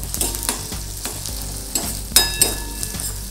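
Capsicum with ginger-garlic paste fries in a pan, a close, continuous sizzle broken by repeated scraping strokes of a spoon stirring, with no voices.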